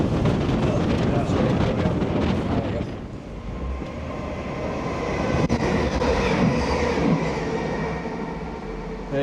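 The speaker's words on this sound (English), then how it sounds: "We have a train coming." A train approaches through the Standedge Tunnels, rumbling and roaring in the enclosed space, loud at first and then easing into a steady drone with faint rattling.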